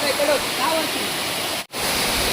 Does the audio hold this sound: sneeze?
no